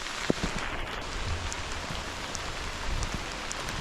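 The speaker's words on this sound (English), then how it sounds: "I'm excited about this rain" Heavy rain pours onto the ground of a garden property, a steady, dense and close hiss with scattered drop impacts and no talking.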